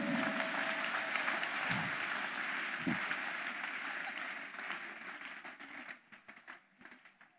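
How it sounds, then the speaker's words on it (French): An audience at a church conference session claps and cheers in sustained applause that holds steady, then thins into scattered fading claps toward the end. "Clap your hands for Jesus."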